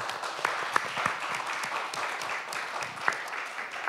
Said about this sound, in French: Nous allons applaudir nos deux amis pour leur dire qu'ils sont les bienvenus à Genève.